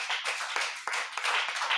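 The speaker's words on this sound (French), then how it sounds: "Applaudis pour le Seigneur." A church congregation claps for the Lord in quick, rhythmic bursts, many hands together at close range, with no voices over it.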